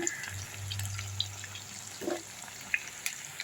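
Lentil masala vadas fry in about a kilo of hot oil, a steady bubbling crackle running throughout with a few sharper pops and spits close by, no voices.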